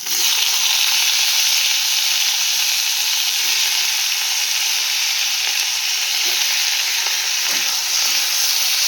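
Thinly sliced potatoes for aloo chorchori curry fry in a pan with a steady, loud, close sizzle and hiss, broken by a few faint stirring scrapes.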